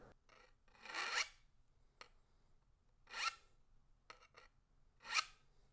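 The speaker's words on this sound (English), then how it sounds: "I actually just have to deburr it." A hand file rasps across the pick of an ice climbing tool to remove a burr, three distinct scraping strokes about two seconds apart with faint clicks between, close and alone.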